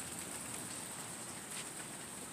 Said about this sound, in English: It is a rainy, gloomy, cold day.